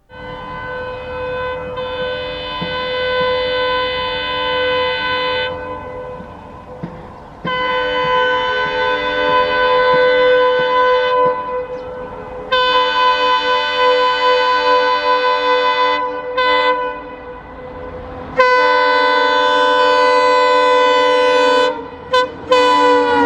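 An EMD locomotive sounds a long, loud multi-tone horn in repeated blasts while the train rushes past on the Shinadawane ghat line, with a continuous rolling rumble beneath.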